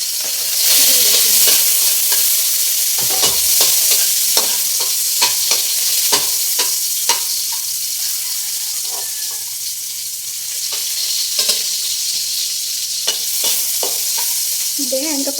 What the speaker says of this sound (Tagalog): Pag ako nagigisa, sunod bawang.